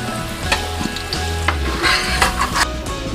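Potatoes frying in hot oil in a home kitchen pan, a steady broadband sizzle with a few scraping stirs and clinks, close and moderately loud, with no voices.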